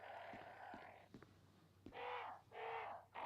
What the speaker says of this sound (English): I'm not a fan of the crows making this kind of noise.